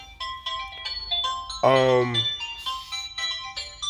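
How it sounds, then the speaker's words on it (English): A phone rings in the background, a short electronic ringtone whose bright tonal bursts repeat through the clip under and between a person's speech. "that's a phone ringing in the background."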